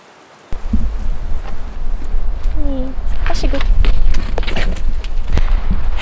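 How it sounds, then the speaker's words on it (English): Wind and rain outdoors on a November day, a steady broadband rush that starts abruptly and continues throughout, with scattered patters and clicks under a voice talking. "Pretty windy today. And a bit rainy."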